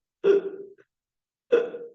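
A human voice imitates hiccups twice, each a short sharp vocal gulp followed by a brief tail, close and clear against silence.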